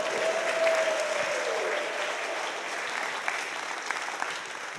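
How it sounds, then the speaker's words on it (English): A church congregation at a Christmas carol service claps in sustained, even applause, moderately loud and steady across the whole stretch, with no talk over it. "Oh, you're going to clap again, aren't you?"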